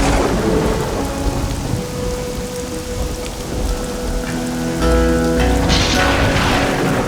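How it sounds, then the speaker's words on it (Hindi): Heavy rain pours down steadily with rolling thunder rumbling underneath, building louder toward the end, with no voices present. "और इतनी बारिश हो रही है"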